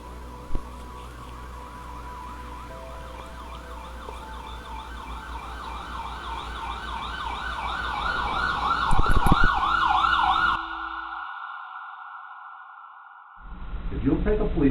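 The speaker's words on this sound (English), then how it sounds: "I hear a siren." An emergency vehicle siren wails in a steady rising and falling pattern. It grows louder as the vehicle approaches, cuts off abruptly, then starts again briefly at the end.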